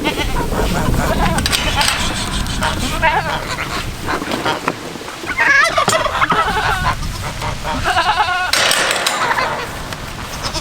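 Goats on a farm bleat and call at feeding time, several animals overlapping nearby with rustling and knocking of a wagon being pulled into their pen.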